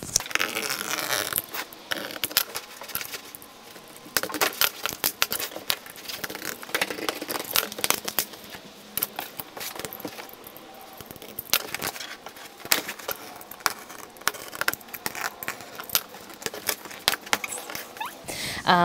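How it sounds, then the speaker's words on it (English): An X-Acto knife cuts out a paper template in short scratchy strokes and taps, close and fairly quiet, repeating irregularly throughout. "what we're going to grab is our X-Acto knife, and we're just going to cut this out."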